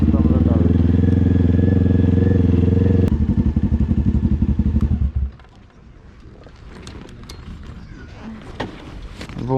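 Motorcycle engines run loud and steady up close for a few seconds, then cut out, leaving scattered clatter, thumps and voices at a lower level.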